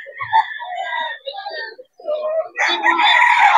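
Gamefowl stags, young roosters offered at a Philippine fowl sale, give strained crowing calls close by, one long crow followed by a louder, harsher crow at the end, with no talking over it.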